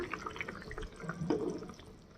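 Water poured into a pan of fish masala curry with potatoes, a soft, quiet splashing and trickling that rises briefly in the middle before settling.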